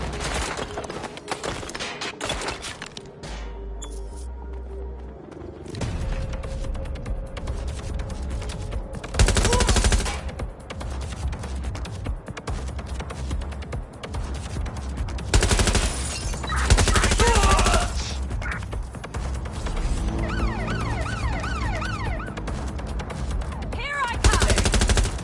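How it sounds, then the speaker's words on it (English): Gunfire in Watch Dogs Legion, a dense, loud run of rapid shots and bursts that goes on and on, with heavy impacts and game noise layered throughout. "Someone's shooting."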